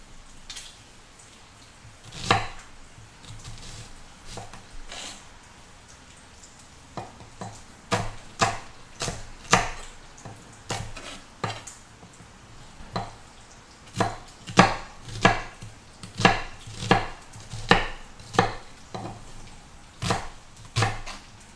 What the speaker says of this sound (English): I'm dicing the onion up pretty small.